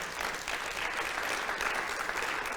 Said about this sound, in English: I'm glad you're clapping